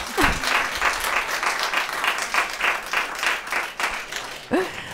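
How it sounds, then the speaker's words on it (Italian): Audience applause at the Turin International Book Fair, a moderate crowd clapping in uneven pulses for several seconds, with a voice cutting in briefly at the end. "lo potete fare l'applauso se volete"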